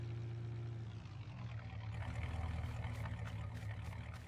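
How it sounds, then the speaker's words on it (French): A farm vehicle engine idles and runs steadily in Farming Simulator 19 on alpine terrain, a continuous low droning hum that rises slightly midway, with no talk. "Et le moteur tourne toujours."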